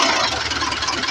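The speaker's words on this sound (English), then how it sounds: "The engine is cranking like that." A Mercedes-Benz 814 Ecopower truck engine cranks and runs with a steady, close mechanical chug and rumble throughout a brief moment, no voices present.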